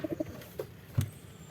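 Domestic country pigeons coo in a short run of soft, low, rounded calls near the start, with another coo later, close by and alone in a quiet setting.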